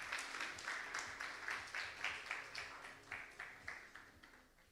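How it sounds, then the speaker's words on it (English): A pitch competition audience in Cape Town applauds a startup at the grand finale, heard as a quiet, distant run of rhythmic claps that fades gently across the stretch. "Big round of applause to MyStock Africa."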